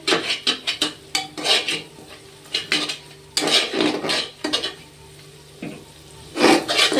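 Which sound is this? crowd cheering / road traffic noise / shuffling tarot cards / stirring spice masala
stirring spice masala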